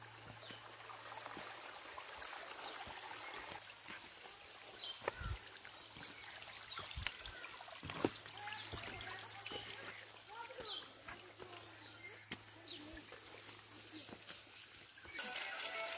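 Water trickles and splashes steadily from a village well spout on a quiet hillside path, a soft continuous flow with occasional louder drips and faint birds, while a steady low hum sits beneath and voices murmur now and then.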